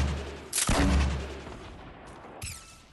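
A sniper rifle fires once in a squad battle royale game with a sharp, loud crack. A second, fainter shot follows a couple of seconds later.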